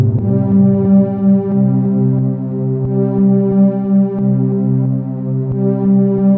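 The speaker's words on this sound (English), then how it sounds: "Let me go ahead and turn the delay up on that." A droning synth tone from a Novation Circuit Rhythm pulses steadily with repeating lo-fi beat hits, each echoing into the next as a delay effect, loud and continuous with no talking.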